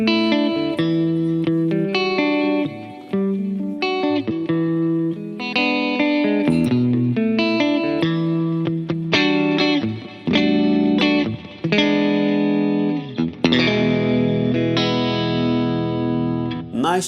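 An electric guitar on its middle pickup plays chimey, lightly driven chords and arpeggios through a UAFX Ruby Vox AC30 pedal, each strum ringing clearly before short gaps between phrases.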